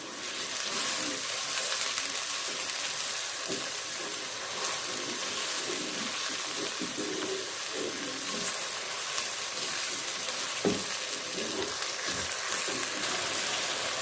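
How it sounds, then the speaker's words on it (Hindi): Tomatoes and green chilies fry in a pan with ginger and garlic for a matar keema, giving a steady, fairly loud broadband sizzle with a few soft stirring knocks throughout and no talk. "अब हम इसके अंदर टमाटर डालेंगे और साथ ही हरी मिर्चें डाल देंगे और इसको 1 मिनट तक पकाएंगे।"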